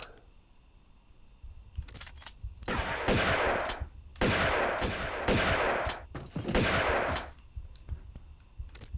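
Shotgun fire in Tomb Raider 2 comes as several loud bursts of repeated blasts in quick succession, separated by brief pauses.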